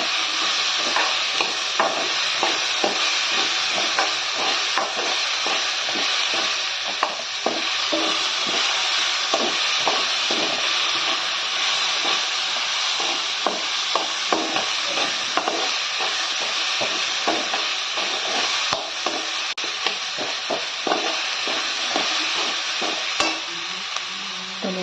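Tomato frying in a pan for a Maharashtrian onion and coconut masala, with a steady dense sizzle and frequent scraping stirs running throughout, close and even, with no talk.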